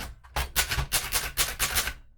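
A Groma Kolibri portable typewriter, also sold as the Brillant Neckermann Junior, clacks under steady typing. About seven sharp, close keystrokes land in a quick, even rhythm, with no voices.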